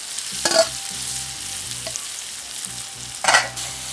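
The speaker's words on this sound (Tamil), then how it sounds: "வெங்காயம் தக்காளி வதங்கிட்டுருக்கு" Onion and tomato sautéing in a clay pot for fish curry, with a steady soft sizzle and a few louder scraping stirs near the start and end.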